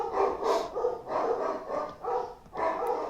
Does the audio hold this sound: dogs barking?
yes